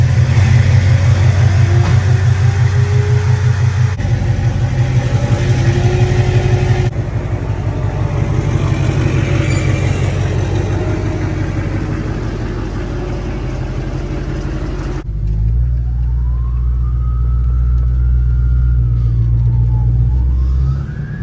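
A Duramax diesel pickup truck on a short test drive, its engine droning loudly and steadily throughout, shifting in pitch as it moves, with a smoother, quieter stretch near the end.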